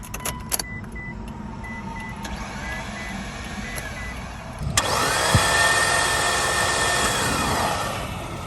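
A Mitsubishi Evo fails to start after suddenly dying: clicks and chimes at first, then the starter cranks steadily from about the midpoint without the engine catching, heard close up with no talk.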